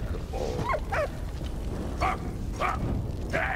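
A dog barks and yips in the World War I video game Valiant Hearts: The Great War, giving several short sharp barks in separate bursts over a low rumbling game background.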